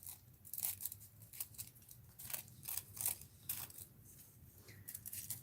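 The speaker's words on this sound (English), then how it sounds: "Let's cut it off a little here." Scissors snip through craft foil in a quiet room, giving a series of short, crisp cutting and crinkling sounds at an uneven pace, close and fairly soft.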